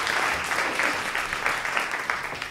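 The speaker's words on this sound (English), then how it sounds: "Give him a warm round of applause." A theater audience at a season sneak preview applauds warmly as a speaker is called up, a steady patter of many hands clapping at moderate volume for a couple of seconds.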